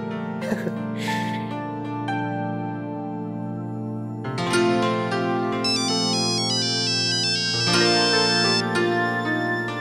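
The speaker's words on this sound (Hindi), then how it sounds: "जल्दी से अक्षरा को फोन कर लेता हूँ" A melodic phone ringtone plays loudly and steadily, its electronic tones repeating over several seconds after a brief breathy sound at the start.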